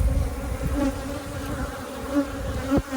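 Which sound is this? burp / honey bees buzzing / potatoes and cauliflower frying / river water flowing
honey bees buzzing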